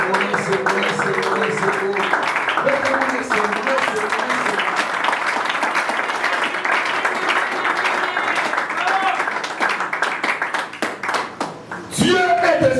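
A church congregation claps loudly and continuously in acclaim of the Lord, a dense sustained wave of applause with voices mixed in, fading briefly before a final burst.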